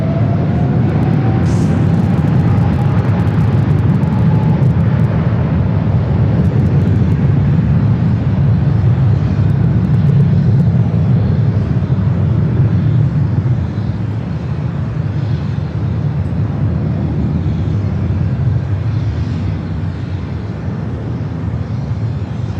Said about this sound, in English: All right, EVA now rolling down.